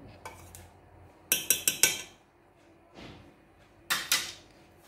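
A fork clinks against a bowl while cookies are dipped in melted chocolate, with a few quick metallic taps in clusters and scraping in between, close and fairly quiet.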